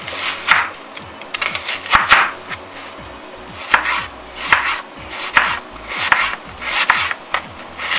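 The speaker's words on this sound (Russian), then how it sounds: "Шинкуем лук." Onion being shredded with a knife on a cutting board, a quick run of crisp, close chops in uneven bursts, with no voices.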